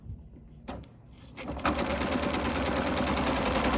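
A sewing machine set to its longest stitch runs a straight line of stitching on fabric for a shirred elastic summer dress, starting with a few brief taps and then settling into a steady, close mechanical whir.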